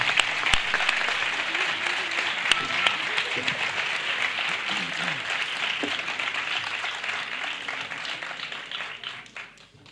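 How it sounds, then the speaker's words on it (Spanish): Audience applause following a cofradía band's anniversary concert in Antequera, a dense steady roar of many hands clapping that holds for the full length and thins slightly at the end. "Un fuerte aplauso para ellos."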